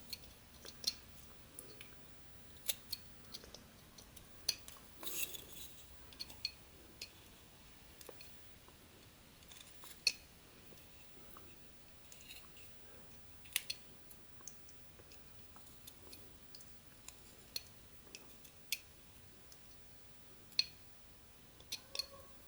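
Knife whittling a basswood carving with small scooping cuts: faint, scattered clicks and light scrapes spread irregularly over a quiet background.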